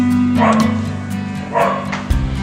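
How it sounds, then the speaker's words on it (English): Dogs bark in a couple of short bursts in the background, fairly loud, over a steady low hum with some faint noise between, on a farm with goats and sheep. "please excuse my loud barking dogs in the background"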